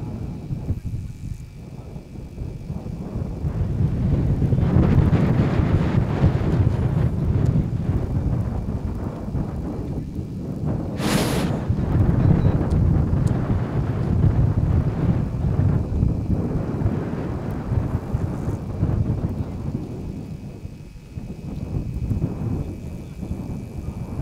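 Strong wind roars steadily across an open-air cricket match ground, a continuous low buffeting rumble on the microphone that rises and falls in long gusts, with one brief sharp hiss partway through.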